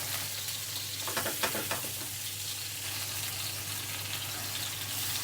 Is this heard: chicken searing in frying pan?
yes